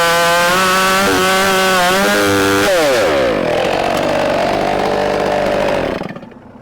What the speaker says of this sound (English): the saw is throwing out really nice chips, but it's cutting on an angle